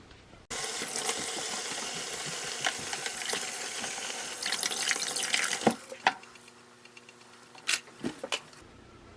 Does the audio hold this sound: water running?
yes